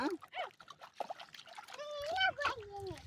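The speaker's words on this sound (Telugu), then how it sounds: "నేను నీళ్ళు పోతా." Water is poured at home, a soft trickling splash heard up close beneath a child's and an adult's voices that continue throughout.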